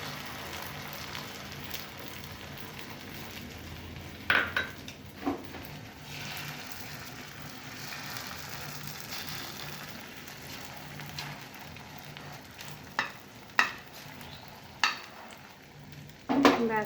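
An egg sizzles in hot oil in a home kitchen, with chopped green chilli already in the pan. A steady, soft frying hiss carries a few sharp pops and crackles scattered throughout, and no one speaks.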